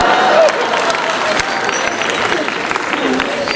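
A live stand-up comedy audience in Delhi breaks into steady, dense applause that fills the room, with a louder burst at the start settling into continuous clapping mixed with crowd murmur and cheers.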